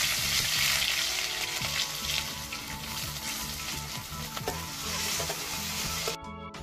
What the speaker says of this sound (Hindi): प्याज को जो है हम ब्राउन होने तक भूनेंगे।